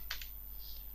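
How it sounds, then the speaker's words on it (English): Quick keystrokes on a computer keyboard during SQL database work, two or three soft clicks in a short burst over a quiet background hum. "So I'm just typing"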